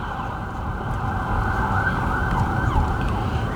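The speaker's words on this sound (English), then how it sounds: "I think the ambulance might be following me." Ambulance siren in Dupont Circle, Washington, at night, a steady wail close by over traffic noise, holding a sustained tone for a few seconds.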